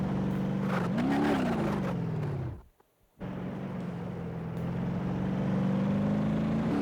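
An old vehicle driving in the BeamNG.drive simulator on its early grid map, producing a steady engine drone that rises briefly in pitch, cuts out to near silence for a moment, then resumes as a steady hum.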